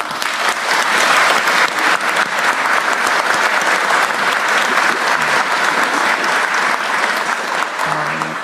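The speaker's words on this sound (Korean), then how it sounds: "장관님과 직원들 위해서 박수 한번 하겠습니다." Loud, sustained applause from a large audience at a Korean government meeting, honouring the labor minister and ministry staff. The dense clapping fills the space without a break and fades slightly at the end.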